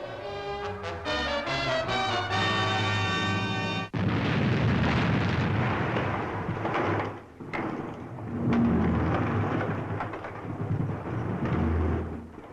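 A long, loud rumbling explosion after a bright tonal musical passage, the roar and crackle sustaining at high level for several seconds with deep booming surges and no talking.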